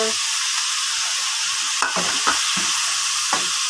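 Chicken liver goes into a hot pan and sizzles steadily in oil, with a few soft scraping knocks of a utensil stirring through the frying.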